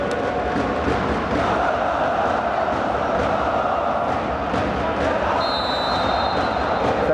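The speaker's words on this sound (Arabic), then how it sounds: "سامعين هتافات الجمهور العريق للنادي الأهلي" Al Ahly supporters chant and roar in an indoor arena during an African club volleyball championship match against Nemo Stars of Uganda, a dense continuous crowd din filling the hall at steady loudness throughout.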